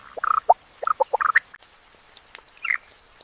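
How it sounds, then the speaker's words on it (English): A burst of frog calls on an Amazon rainforest floor, several quick croaking notes in a rapid cluster, then a pause and a single shorter call, close by and clear. "the forest floor comes alive with the calls of countless frogs"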